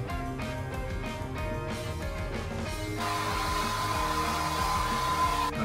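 A hair dryer blows steadily on freshly dyed hair, a close, loud continuous whir that keeps running throughout, with a slight change in pitch partway through as the airflow shifts.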